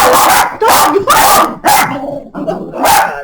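Dogs bark indoors in a rapid, loud series of close barks and yips, several in quick succession.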